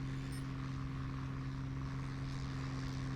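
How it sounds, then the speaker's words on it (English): A P-40 Kittyhawk propeller plane in the War Thunder video game drones with a steady, even engine hum and no voices over it. "Slow down the plane a little bit more."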